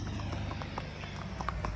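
Horse hooves clip-clop in a quick, even rhythm on a pony ride at Gulmarg, Kashmir, the light clopping steady and moderately close against faint background noise.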